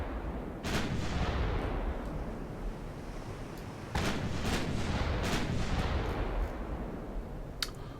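Naval 3-inch guns in a Japanese naval combat game fire at a destroyer: a steady roar of battle noise broken by several loud gun reports, two heavy blasts close together and sharp cracks near the end.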